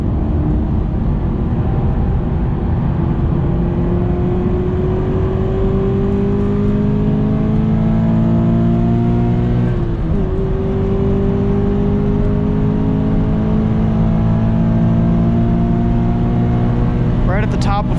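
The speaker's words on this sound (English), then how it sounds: "Right at the top of fourth, hitting the rev limiter before we were on the brakes." A Subaru BRZ on a race track accelerates hard through the gears, its engine note climbing loud and close until it hits the rev limiter in fourth gear near the end.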